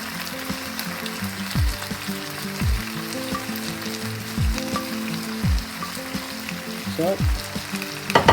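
Fried eggplant is stirred into pasta alla Norma sauce in a pan, a steady sizzle and bubbling broken by repeated scraping strokes of the spoon, close and fairly loud with no voices.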